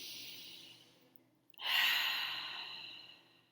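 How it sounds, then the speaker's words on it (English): A group takes a deep breath together: quiet air drawn in, then one loud, breathy exhale that trails off slowly. "Let's take a deep breath together."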